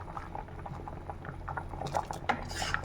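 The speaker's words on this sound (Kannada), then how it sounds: "ಸಾಂಬಾರು ಕುದೀತಾ ಇದೆ." A pot of mixed vegetable sambar with drumsticks simmers at a rolling boil, giving off soft, continuous bubbling and popping that grows a little busier toward the end. It is close but fairly quiet, with no talking over it.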